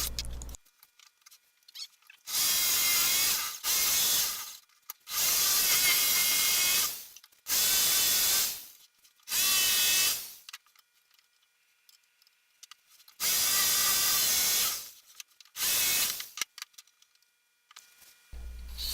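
A small motorized drill on a homemade pocket hole drilling machine whines up in several short bursts, each spinning up and cutting off, with near silence and faint clicks between runs.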